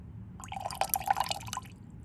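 Wash water poured off copper in a school chemistry lab trickles from a container in a short, close stream of glassy drips and splashes, rising and fading within about a second, with no talking.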